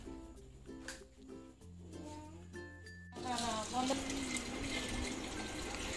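Tap water gushes steadily onto money plant leaves being washed at a sink, starting partway through after a quieter stretch and then running loud and continuous.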